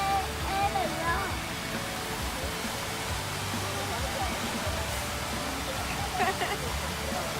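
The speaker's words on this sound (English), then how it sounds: "I spy a river." River water flows in a steady broadband rush throughout, with occasional faint high chirps and bits of distant talk over the continuous water noise outdoors on a nature walk.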